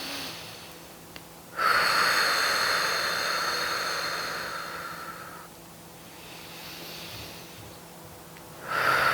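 Deep, slow breathing during a yoga pose, long breathy hisses of air with a quiet pause between breaths, close to the microphone and without speech.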